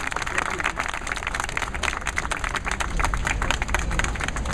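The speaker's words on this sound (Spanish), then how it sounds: "yo también pido un aplauso para ellos" Audience applause at a public address by a speaker calling for clapping, a dense, steady patter of many hands that continues evenly and fairly loud throughout, with no voices standing out.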